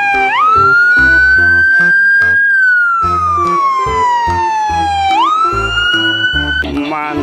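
A white toy ambulance's siren wails loudly, its electronic tone sliding up and down in long sweeps, with beeping toy sounds underneath and a brief jingle at the end.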